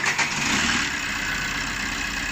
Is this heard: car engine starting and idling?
yes